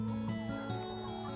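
Laying hens clucking and squawking in a large poultry farm flock of about 15,000 birds, a dense, continuous chorus of overlapping calls close by.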